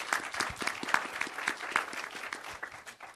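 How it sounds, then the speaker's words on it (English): Audience applause at a city council meeting greeting Dr. John Bullard, head doctor at Ann Road Animal Hospital: a room of scattered hand claps, moderately quiet and steady, with faint voices murmuring underneath. "if we can all give him a round of applause"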